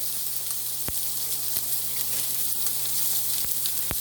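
Butter sizzling and bubbling in a pan while a New York steak dinner cooks, giving a steady, close hiss with occasional sharp pops and crackles, with no talking.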